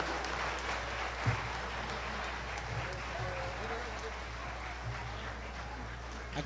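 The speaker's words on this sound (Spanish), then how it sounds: "El aplauso fuerte para Honorio Cano" Applause from an outdoor crowd at a municipal garden concert with an orchestra, steady clapping that carries on throughout with a low hum in the background and some voices.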